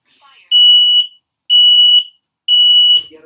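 A fire alarm sounds three loud, piercing beeps of about half a second each, evenly spaced a second apart, close and dominating the room.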